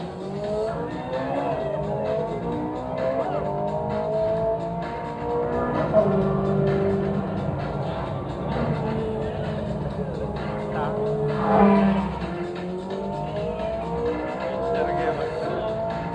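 Ferrari race car driving hard, its engine revving and shifting through a wavering roar with tire squeal and skidding, loud and sustained, while voices talk over the driving.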